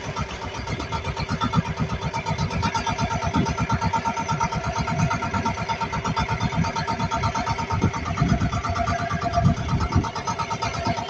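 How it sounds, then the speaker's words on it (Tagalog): A fishing boat's engine, running unevenly, chugs in a rapid, dense pulse with a rough, uneven knock, steady and close for the full length, with no voices over it. "Paloko-loko pa yung makina."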